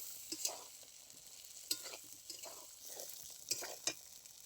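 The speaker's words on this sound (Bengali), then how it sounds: "বেগুনটা খুব ভালো করে নাড়াচাড়া করে নেব।" Cut eggplant stirred while frying in rohu fish oil, faint sizzling under intermittent scraping and clinking of a spatula against the pan, close and quiet.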